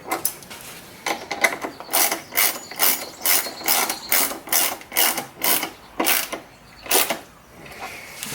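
A ratchet clicks in repeated short bursts while a part on a two-stroke Lawn-Boy self-propelled mower is tightened, close and fairly loud with an even back-and-forth rhythm.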